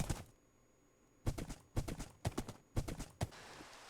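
Horse hooves clip-clop in the Minecraft video game, five or six crisp, evenly spaced hollow knocks in a quick walking rhythm after a brief pause, close and clear with no voices.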